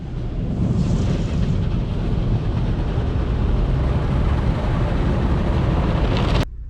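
A Kia Stinger fitted with a BMS dual cone cold air intake drives along, producing a loud, steady, rumbling roar with heavy wind buffeting. The roar continues unbroken until it cuts off abruptly near the end.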